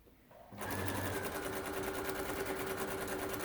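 A sewing machine stitches binding from the very top of the piece, starting after a brief quiet moment and then running steadily with a continuous close, even motor whir and rapid needle rhythm.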